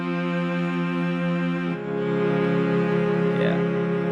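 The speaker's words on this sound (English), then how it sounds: "one thing that I really love as kind of a background noise or, ambience generator are strings" Sustained orchestral string ambience from a sample pack, a lush held chord that shifts to a new chord partway through and swells slightly, playing alone with no voices.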